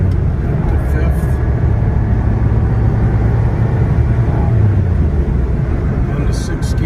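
A 1999 Ferrari 550 Maranello's engine droning in fifth gear at speed, a loud, steady low rumble with road and wind noise from inside the cabin throughout.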